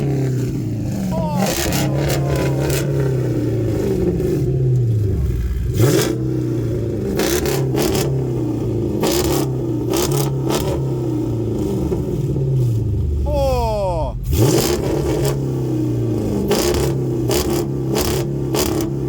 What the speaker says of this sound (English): Solo exhaust, bro.